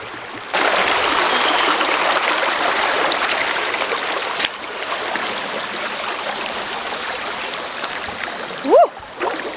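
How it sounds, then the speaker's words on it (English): Water shoes splash and slosh steadily through a shallow stream in a canyon narrows, with flowing water rushing underneath throughout and a brief voice-like exclamation near the end. "The water feels pretty good, so I'm just gonna walk through it."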